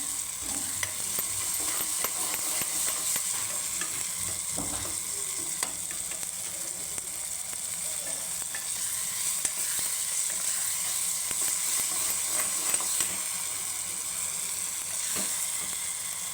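Masala sizzles steadily in a hot pan while it roasts for toor dal varan, with a dense frying hiss, a few scattered crackles and stirring scrapes, and no voices.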